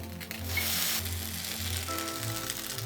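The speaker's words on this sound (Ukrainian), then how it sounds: "І так само обсмажуємо." Potato pancakes (deruny) fry in a hot pan with a steady, close, dense sizzle and crackle that runs unbroken throughout, with no voices.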